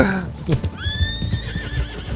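In the Red Dead Online video game, a horse gives a loud, close whinny rising and falling over a second or so, with hoof clip-clops and other game sounds beneath.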